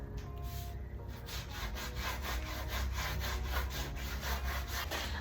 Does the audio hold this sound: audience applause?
no